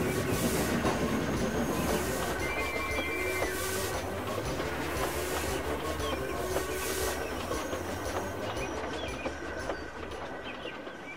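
A heavy goods train rumbles past steadily with a clattering of wheels and squeals, the roar fading slightly toward the end.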